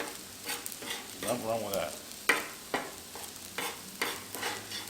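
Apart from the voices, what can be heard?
eggs scrambling and sizzling on a Blackstone griddle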